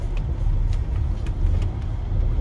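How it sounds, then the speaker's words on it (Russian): A heavy semi-trailer truck rolls past on a road, its deep engine rumble and tire roar steady and fairly close throughout, with no talk over it. "Вот это трак, вот это фура."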